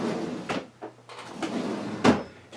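A drawer slides open and shut in an indoor workspace to fetch a buffing rag for a waxing job, giving a few short wooden scrapes and knocks with one firmer bump near the end, close and fairly loud.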